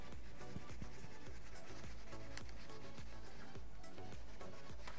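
Dense, steady rubbing of paint being worked in circles through a stencil onto a foam sheet, a continuous scratchy texture with repeated soft strokes, close and fairly loud, with no talking.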